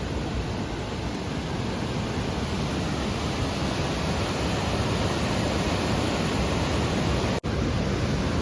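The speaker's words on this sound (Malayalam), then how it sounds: "അതിശക്തമായ രീതിയിലാണ് വെള്ളം വരുന്നത്" Powerful continuous roar of water rushing from an opened dam in Idukki during heavy monsoon rain, dense and unchanging, filling the whole clip with a momentary dropout near the end.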